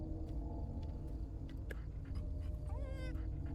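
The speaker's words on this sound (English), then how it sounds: "Let's go see the bestest doggy." A dog whimpers softly in the video game Fears to Fathom: Carson House, faint short whines over a steady low hum, with a rising whimper near the end.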